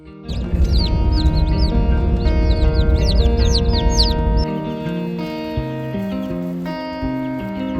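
Chicks in a coop chirp constantly, a dense flurry of high, overlapping peeps heard up close over a musical backdrop; after about four seconds the chirping stops and only the music carries on.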